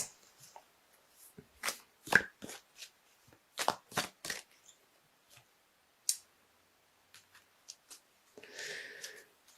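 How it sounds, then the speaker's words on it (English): Cards from a Wild Kuan Yin oracle deck being shuffled and handled up close, a series of quick crisp riffling clicks and taps that ends in a short soft rustle as a card is drawn. "I'm going to pull you an extra little card from the Wild Kuan Yin Oracle deck by Alana Fairchild"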